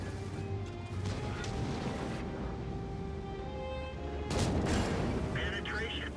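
Auxiliary guns on a tank in the video game World of Tanks, firing in dense crashing bursts under steady engine rumble, with a sharp louder impact near the end.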